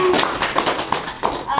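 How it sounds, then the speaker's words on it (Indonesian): Quick, uneven clapping from a small group goes on for a moment, with voices murmuring underneath. "tepuk tangan dulu dong."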